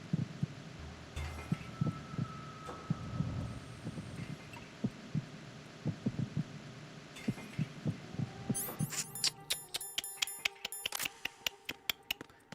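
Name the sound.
heartbeat from the video game Metal Gear Solid 2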